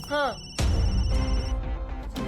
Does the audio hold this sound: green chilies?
no